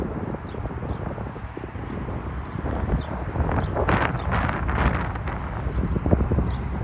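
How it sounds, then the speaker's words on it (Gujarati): Steady gusting wind roars against the microphone, rising stronger through the middle, with faint rustling and no voices. "પવન મજબૂત હોય"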